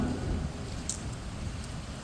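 Heavy rain falls in Kochi, Kerala, making a steady, dense wash of noise that stays fairly quiet and even, with no talking.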